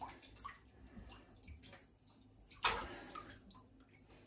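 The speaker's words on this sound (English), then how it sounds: "give it a rinse, get all the scales off." Running water rinses whole herring to wash off scales, a soft steady splash and trickle with brief louder gushes, one sharp burst midway, fairly close and without talk.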